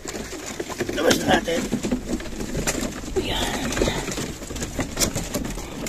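Racing pigeons coo and flutter close by as they are let out for a final training flight before a race, with someone talking over them throughout.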